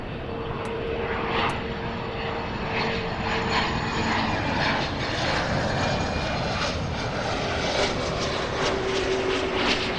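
An airliner departs LAX for Frankfurt off the south side, its engines a constant heavy roar with a thin steady whine, held at an even level throughout.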